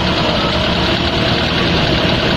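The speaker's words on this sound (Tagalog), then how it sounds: "Kinakailangan yung makina ninyo, palalaksin ninyo, ganyan o." A car engine revved while its radiator is being flushed, giving a loud, steady, close mechanical drone with a low rumble and no talking.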